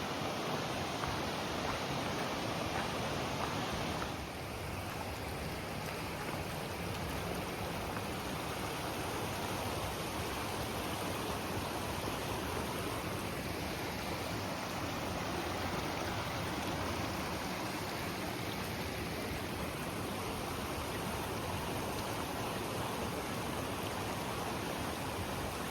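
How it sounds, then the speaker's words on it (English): A river in the Olympic backcountry rushes steadily, a dense, even wash of flowing water that stays unchanged throughout with no voices. "There's the river."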